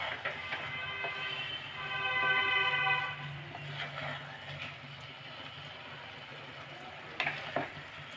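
Carrot halwa with raisins stirred in a pan over a medium flame: a steady low sizzle with scraping strokes of a spoon, close by, while a voice talks over part of it.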